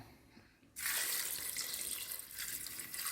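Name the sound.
pouring water from tap into cooking pot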